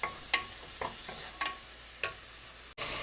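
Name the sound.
sautéing onion paste and ginger garlic paste for mutton biryani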